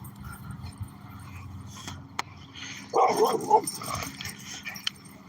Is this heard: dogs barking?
yes